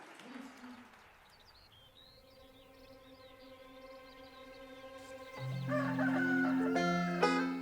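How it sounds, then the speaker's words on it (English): A rooster crows once, close and loud, after a quiet stretch of faint chirping birds, its drawn-out call rising and breaking near the end. "Listen, I've got a rooster."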